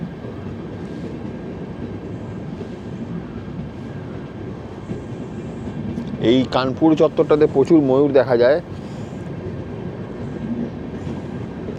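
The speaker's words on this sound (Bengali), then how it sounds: "এই ট্রেন এখন ধীরে ধীরে চলছে আমাদের" The 12301 Howrah–New Delhi Rajdhani Express rolls along with a steady low rumble heard from inside the coach, while someone talks partway through.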